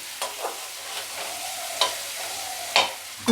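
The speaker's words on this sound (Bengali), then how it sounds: "মশলাগুলোর সঙ্গে আলুটা ভাজা হয়ে গেল" Potato pieces fry with spices in a pan for a cabbage curry, a soft continuous sizzle broken by several scraping stirs of a spoon, close and clear with no talking.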